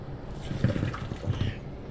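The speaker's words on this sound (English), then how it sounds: "So we'll just bring this over to the sink and just pour a little bit out." Excess water from a pot of shrimp and lemon pasta poured into a kitchen sink, a continuous close splashing rush that holds steady for about two seconds.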